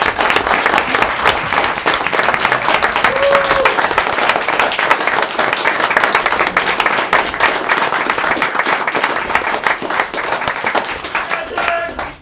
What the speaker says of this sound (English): Can we all give Jim Schubauer a round of applause?